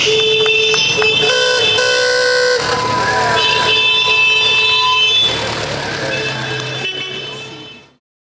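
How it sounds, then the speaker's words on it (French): Several car horns honk together in a loud, sustained, overlapping blare at an outdoor bridge bicentenary celebration, slowly fading out, with vehicle engine rumble underneath. "Allez, on klaxonne la deux."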